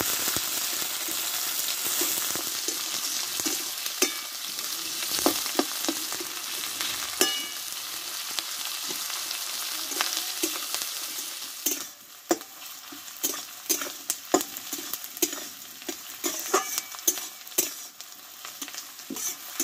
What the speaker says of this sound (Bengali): দিয়ে পেঁয়াজটা ভালোভাবে ভেজে নেব